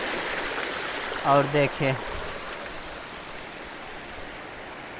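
A mountain waterfall stream near a hillside hermitage pours with a steady, broad rushing hiss throughout, and someone speaks briefly over it early on.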